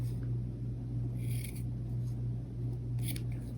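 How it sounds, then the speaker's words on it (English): Scissors snip small slits into the fabric seam allowance around a stitched curve, giving a few quick, faint cuts over a steady low background hum. "I'm going to cut in toward the seam allowance"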